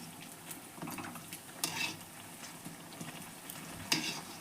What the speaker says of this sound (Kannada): ಚಿಪ್ಸ್ ತೊಗೊಂಡು ನಾನು ಹಿಟ್ಟಿನೊಳಗೆ ಎದ್ದಿ ಈ ಥರ ಎದ್ದಿ ಎಣ್ಣೆ ಒಳಗೆ ಬಿಡ್ತೀನಿ